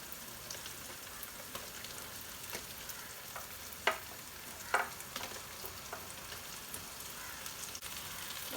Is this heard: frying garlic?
yes